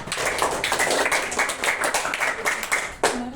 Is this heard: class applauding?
yes